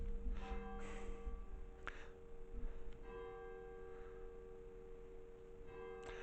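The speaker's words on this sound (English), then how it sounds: "There go the bells." Church bells of St John the Baptist in Stowe by Chartley, Staffordshire, strike four o'clock, with a few spaced, resonant peals heard inside the church, moderately loud with no talk.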